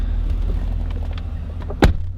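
The door of a Cadillac CTS-V SportWagon swings shut with a single solid thump near the end, over a low, steady engine idle.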